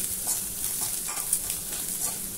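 Chopped onion frying in oil over a medium gas flame, a steady bright sizzle with irregular stirring scrapes and clicks throughout, close and fairly loud, no talk.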